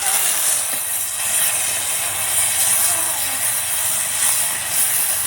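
Ground spice paste hitting hot oil while cooking a village-style curry of small potatoes and eggs, giving a loud, close, steady sizzling hiss that holds throughout.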